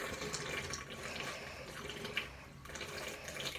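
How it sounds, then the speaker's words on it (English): Sink water spiralling in a hand-made vortex and rushing down the drain, a steady close gurgling whoosh with small bubbling pops, heard alone without speech. "That sound is all the water rushing into the drain."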